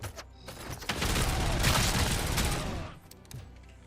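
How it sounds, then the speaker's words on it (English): Machine gun fire in the Robocop video game rattles in a dense, loud sustained burst lasting a couple of seconds, with a few quieter shots before and after. "there is another machine gun"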